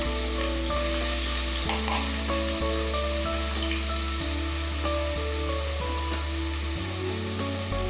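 Masala with ginger-garlic paste frying in a pan for chicken biryani, a continuous dense sizzle with scraping stir strokes over it, steady and close with no talk.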